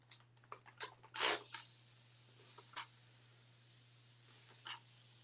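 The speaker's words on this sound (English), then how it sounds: "So I am spraying this pretty heavily and I am letting all of that DIY Bohemian Blue come through." Spray can applying heavy coats of DIY Bohemian Blue paint to a furniture piece, a steady close hiss running for a couple of seconds after a few short clicks and bursts, then fading quieter; no talk.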